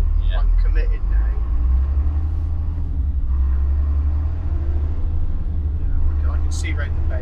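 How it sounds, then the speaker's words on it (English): Road traffic passing near an HGV on the bends of the Mendips, a constant low engine rumble heard from the cab with a few faint higher sounds, while someone talks over it. "Fair bit of traffic coming through there."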